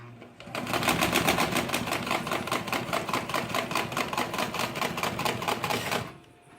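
A sewing machine stitching an apron runs at a steady, even rhythm for about five seconds, with fast regular mechanical clatter, then stops.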